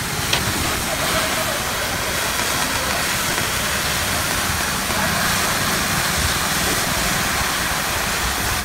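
A gas cutting torch slices through a wrecked train engine, a loud unbroken roaring hiss that holds steady throughout and stops suddenly at the end.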